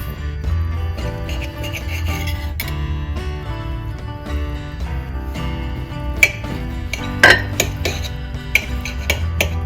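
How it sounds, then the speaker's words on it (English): A knife cuts through cooked peppers on a plate with soft rubbing and scraping, then a few sharp clinks of utensil against dish, close up and with no talk. "Take each pepper and slice them in half."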